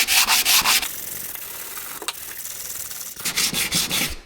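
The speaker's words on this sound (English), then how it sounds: "This is 150 grit on a flat sanding block." Hand sanding of car body panel work on a Jeep CJ-7 with 150 grit paper on a flat sanding block, loud close rhythmic rasping strokes in bursts at the start and end with a steadier rub between.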